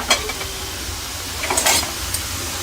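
A ladle stirs kara boondi frying in hot oil in a pan, giving a steady low sizzle broken by a few sharp metallic clinks and scrapes against the vessel.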